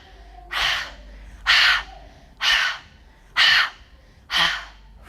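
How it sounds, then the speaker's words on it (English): A person forcefully exhales an outward ha breath during a yoga breathing exercise, five loud, sharp breathy bursts in a regular rhythm about one second apart, close and without talk. "see if you can start to activate your outward ha breath"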